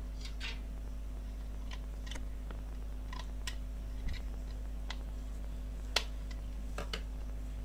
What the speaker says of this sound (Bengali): কিছুটা অংশ কেটে বাদ দিয়ে দিব